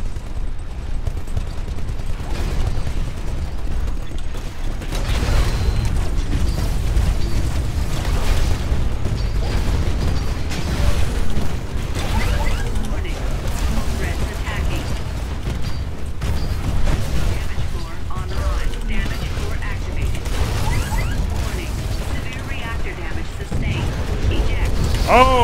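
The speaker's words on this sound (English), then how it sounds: "I got killed by that nuclear explosion." A nuclear explosion from an enemy Titan during a Titanfall campaign battle, with a heavy rumbling blast that runs into continuous gunfire and mechanical clatter, loud and unbroken throughout.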